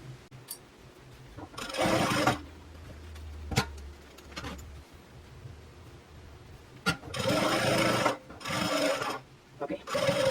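Sewing machine stitching a seam close to zipper teeth on a fanny pack, running in several loud, close bursts with pauses between them.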